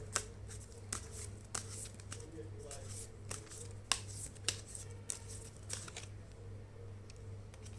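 Tarot cards are shuffled and drawn by hand, giving a series of soft, crisp snaps and flicks at roughly regular intervals over a steady low hum, close and fairly quiet.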